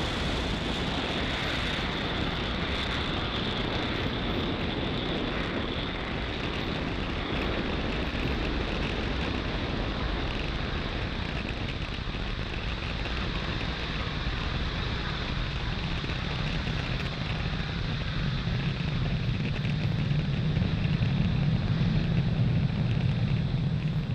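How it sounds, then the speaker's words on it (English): A SpaceX Falcon 9 rocket lifts off from pad 40 carrying the SES 18 and SES 19 satellites. Its engines make a continuous, distant, broad rumbling roar that swells in the deep low end toward the close. "Falcon 9 has successfully lifted off from pad 40"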